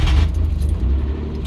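A 1985 Ford Bronco II with a 2.8L V6 fitted with a Holley Sniper 2300 throttle body, starting up: a loud, deep rumbling engine turning over and settling into a low idle, with a light metallic jingle early on.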